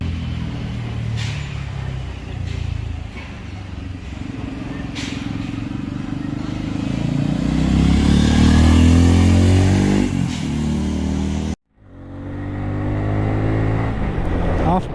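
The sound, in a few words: Bajaj Pulsar N250 motorcycle engine revving while accelerating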